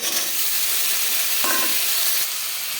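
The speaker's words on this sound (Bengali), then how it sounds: "আলুটাকে ভালো করে ভেজে নেব" Cut potatoes frying in a pan with onion, bay leaf, five-spice and green chilli for a peas and potato curry, a loud, steady sizzle and hiss close by, with a brief stirring scrape partway through.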